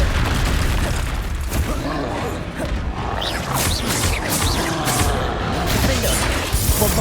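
Bombarda explosion spell going off in the Hogwarts Legacy video game, a dense, continuous barrage of booms and crashes with scattered bursts across the whole stretch.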